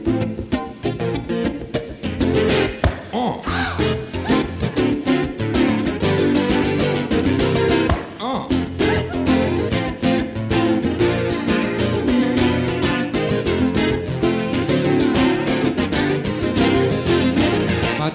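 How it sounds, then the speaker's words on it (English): Jewish blues song, full band playing dense and loud throughout, a steady driving rhythm without a break. "The Jewish blues sounds something like this."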